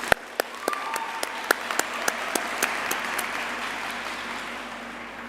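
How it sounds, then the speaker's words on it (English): Graduates at a university graduation ceremony receive a warm round of applause from the audience, steady clapping across the whole stretch with a few sharper individual claps standing out, no voices over it. "May we please give the graduates another warm round of applause"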